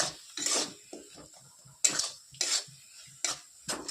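Eggs stirred with a utensil in a pan while making butter tadka, giving intermittent scraping and clinking strokes of a spoon against metal, in short bursts separated by pauses, close and fairly quiet.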